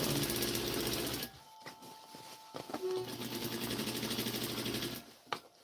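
A sewing machine stitches layers of fabric together, the top layer carrying extra fabric pulled tight, running loud and fast for about a second before dropping to a quieter, steady mechanical whir.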